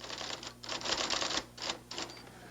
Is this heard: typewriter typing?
yes